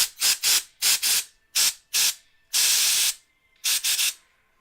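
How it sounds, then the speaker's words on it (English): A can of compressed air sprays in a string of short bursts, mostly paired quick puffs and one longer blast, loud and close with silence between, while working on a painting. "Where's our trusty can of air?"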